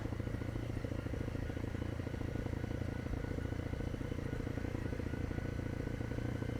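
Motorcycle engine braking in third gear at about 20 mph on a rough road, a steady low rumble with faint clatter running throughout.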